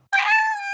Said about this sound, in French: Ça, c'est un chat.